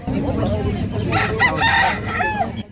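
Chickens cluck and a rooster crows nearby amid a busy background of voices and bustle, typical of a crowded poultry market.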